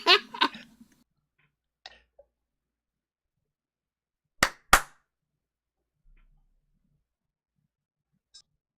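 A single sharp hand clap for recording sync, preceded by brief muffled talk and followed by near silence with faint ticks; the clap is loud, close and alone.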